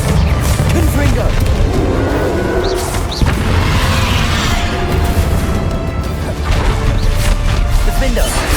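Confringo spell blasts go off in Hogwarts Legacy combat as loud, heavy booms and crashing impacts. They sit within a dense, continuous roar of game effects that lasts the whole stretch.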